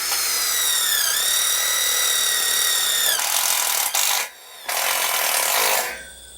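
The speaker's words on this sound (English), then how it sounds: "we're going to put some screws in these joints here" A power drill drives screws into wooden joints, its motor whining up and slowing in pitch over a few seconds, then two more short bursts of loud, near drilling with brief pauses between.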